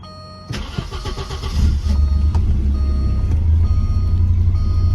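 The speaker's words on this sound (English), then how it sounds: "Let's see if she'll fire up." A car engine cranks briefly, catches, and settles into a steady low idle that continues to the end, close and fairly loud.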